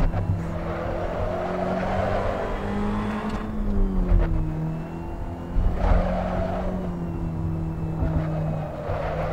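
Race car engines in the Assetto Corsa racing game during a 20-lap race, lapping slower cars: a steady, droning engine note rises and falls in pitch with gear changes, with occasional tire-squeal swells, continuous throughout.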